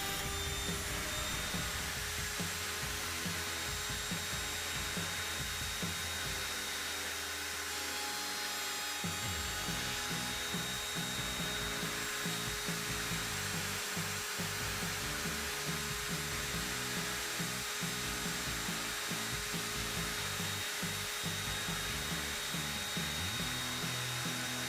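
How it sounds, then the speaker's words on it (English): An electric sander works across the bottom of a wooden box with a continuous loud hiss and whine, its tone briefly dipping partway through before carrying on steadily, with no talk. "I then sanded the bottom of the box"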